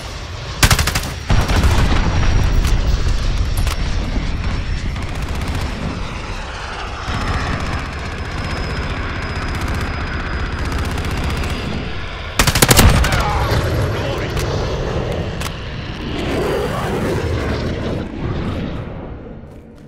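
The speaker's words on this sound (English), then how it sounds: "Enemy cruise missile, take cover." An enemy cruise missile strike hits in the Modern Warfare beta amid constant aircraft engine roar and machine-gun fire, with sharp close blasts near the start and a heavy impact around the middle, loud throughout.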